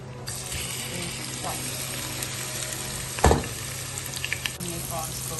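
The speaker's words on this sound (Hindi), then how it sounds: "हमने प्रॉन्स को फ्राई के लिए डाल दिया है।" Marinated prawns fry in about three tablespoons of oil in a pan, giving a steady close sizzle throughout with a brief louder burst and a few light clinks midway.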